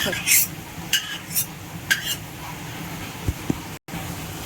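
Sesame seeds dry-roasting in a pan, stirred with a spoon that gives a few sharp clinks and scrapes against the metal over a faint background hiss, with no talk.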